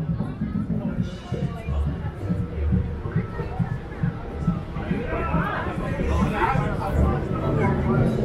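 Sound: crowd chatter on a downtown street corner

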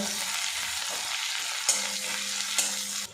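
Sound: frying chopped onion and garlic with dried chili and bay leaf

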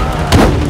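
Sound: gunshot, from video game Spider-Man 2

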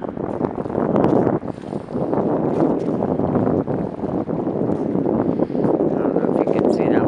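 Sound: wind blowing at water's edge

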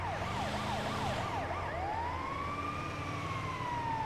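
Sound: ambulance siren in a video game

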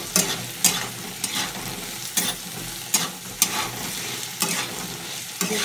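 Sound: potatoes with salt being stir-fried in a pan

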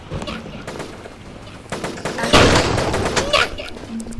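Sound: shotgun firing in the video game Roblox

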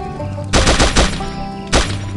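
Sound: assault machine gun firing in Pixel Gun 3D video game

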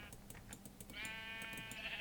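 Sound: sheep bleating in Minecraft video game

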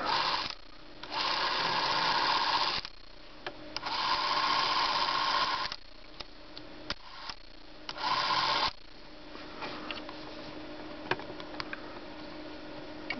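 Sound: clockwork motor of 8mm movie camera running

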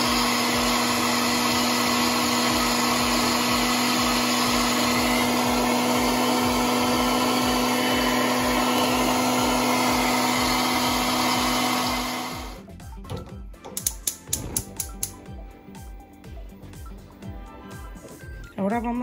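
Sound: blender grinding birria chiles with broth

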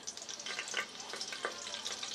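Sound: cloves and cinnamon frying in hot oil for tomato rice

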